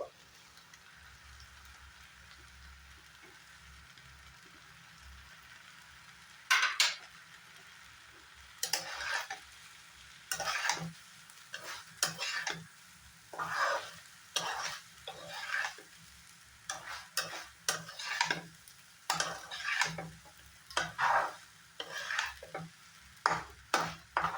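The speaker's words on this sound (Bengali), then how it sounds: "এই পেঁয়াজটাও এখানে অ্যাড করে দেব।" Onion frying in a pan for egg pasta, stirred with a utensil: quiet low hum at first, then a long run of rhythmic scraping and sizzling strokes, close and steady, each stir distinct, with no talking.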